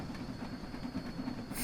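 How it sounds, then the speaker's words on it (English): A train crosses a bridge in the video game Train Sim World 2, a faint steady rumble with a soft repeating rhythmic thump and a thin high hiss, no voices. "nice shot of the train as it goes over the bridge"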